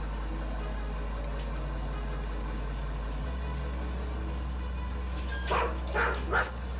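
A dog in the video game Road 96 gives two or three short barks near the end, loud and close, over a low steady hum of game ambience.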